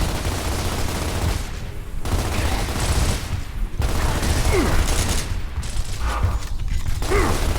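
Enemy gunfire in Gears of War on Insane difficulty: sustained rattling bursts of automatic fire with brief gaps, dense and fairly close, mixed with other battle noise.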